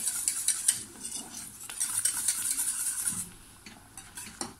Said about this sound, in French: je vais fouetter comme ça et baisser le feu si besoin